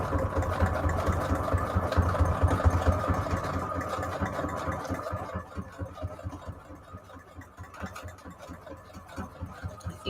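A sewing machine stitches a junk journal cover in a steady, rapid mechanical chatter that runs loud at first, then thins into quieter bursts with short pauses.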